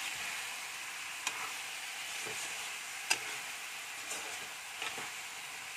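Masala and pakoras fry in a pan with a steady, soft hiss, broken by a few faint clicks of stirring.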